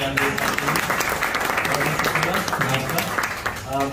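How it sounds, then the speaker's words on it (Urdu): Applause from an audience at a book inauguration and award ceremony in London, a dense, steady clatter of many hands that runs throughout, with voices mixed in beneath it. "بھرپور تالیاں ہونی چاہیے"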